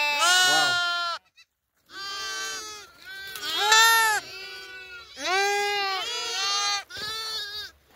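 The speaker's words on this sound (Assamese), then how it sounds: "আৰু ইয়াতে লাগি আছে ভেড়া পোৱালি, ইমান ধুনীয়া লাগিছে চাওক, ভেড়া ছাগলী" Loud, close bleating from goats, sheep and lambs in the Rajasthan desert, India, wavering cries in quick succession separated by short pauses.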